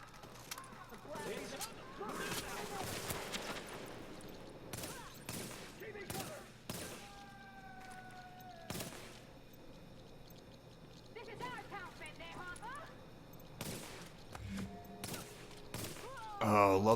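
Gunfire erupts during a Dark Zone fight against heavily armoured enemies in the video game The Division. Scattered sharp shots and short bursts crack at moderate volume, mixed with someone talking throughout.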